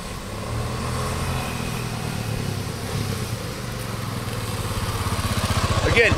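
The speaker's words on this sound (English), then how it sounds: "effortless power with no vibration, and the motor is totally under stress" A 1979 Honda XR500 motorcycle engine runs close by with a steady low thumping exhaust that quickens into a faster, louder pulsing toward the end, with a voice talking over it.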